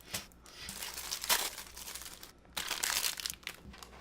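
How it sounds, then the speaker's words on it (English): A Moon Pie's plastic snack wrapper is torn open and crinkled up close, in two loud bursts of rustling separated by a short quieter stretch, with nobody speaking. "Let's unwrap these bad boys and see a little bit better."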